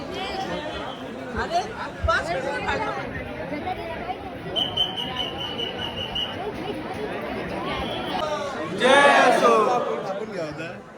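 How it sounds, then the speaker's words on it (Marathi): A large crowd queues for Ganpati darshan at Lalbaug in Mumbai, with dense overlapping chatter and voices all around, a continuous close hubbub of many people talking. "आम्ही आता लाईनीमध्ये घुसलेलो खूप गर्दी आहे मुखदर्शनावर"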